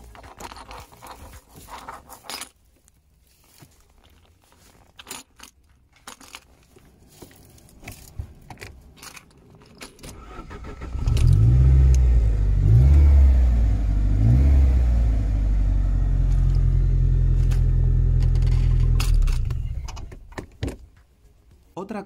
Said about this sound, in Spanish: Vamos a ver más detenidamente el proceso de arranque de este 900.